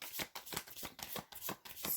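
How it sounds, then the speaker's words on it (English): Tarot cards of the Ink and Intuition deck being shuffled by hand, a close, quiet run of about eight crisp riffling bursts in quick rhythm, with no talking. "while I'm shuffling the cards"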